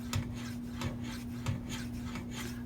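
Maxamet steel knife edge scraped in repeated rhythmic strokes across a Venev diamond sharpening stone, a steady gritty rasp close up with a low constant hum underneath.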